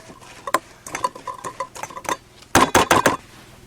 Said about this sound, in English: Mix that well.